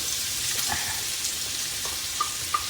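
Onion sizzling in leftover meat fat in a pan, a close, steady crackle and fry with a few small pops and stirring scrapes.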